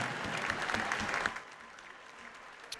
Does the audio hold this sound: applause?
yes